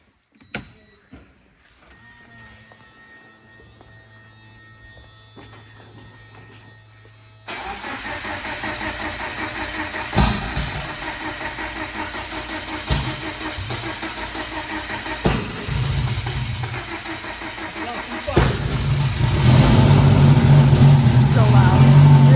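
A car with a freshly repaired transmission cranks and its engine fires up, settling into a loud, rough idle after a quiet lead-in, with people talking over the running engine.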